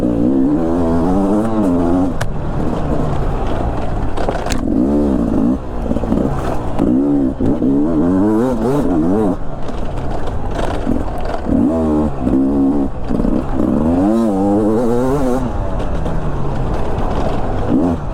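Beta 300 RR Race Edition dirt bike engine under way, a loud, continuous two-stroke drone with rising and falling revs as the rider accelerates and shifts, close up throughout.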